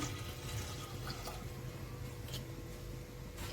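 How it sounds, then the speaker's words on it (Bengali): Water poured into a pressure cooker holding clams makes a faint, continuous splashing rush that lasts the whole stretch without pause. "পরিমাণ মতো জল দিয়ে দিলাম।"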